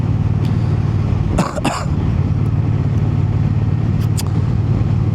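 A Triumph Bonneville T120 motorcycle from 2024 rides along a road with a steady low engine drone and wind rumble, broken by a short burst of buffeting and a few faint ticks.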